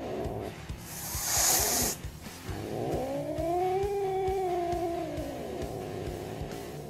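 A domestic cat hisses sharply, a burst of breathy noise, then gives a long, low, wavering growl that rises and falls, heard close and alone over a faint rhythmic background.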